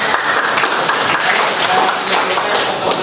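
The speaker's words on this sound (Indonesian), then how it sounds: "tepuk tangan untuk" Loud, sustained applause rises from an audience at the close of a presentation, a thick wash of clapping from many people with a few sharper claps standing out.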